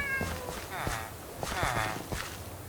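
A cat in the Minecraft video game meows several times, with rising and falling cries over soft pattering footsteps, while someone talks throughout.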